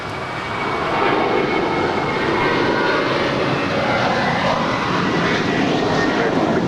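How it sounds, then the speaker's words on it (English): An American Airlines jet departing a runway at Los Angeles International for Boston gives a loud, steady broadband engine roar that swells in the first second and then holds, continuous and close. "This departure is American 1423 departing to Boston."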